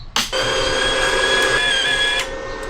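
Welder wire feed motor on a wire-feed welder runs steadily for about two seconds, a close, even whine with high tonal overtones that starts and stops abruptly.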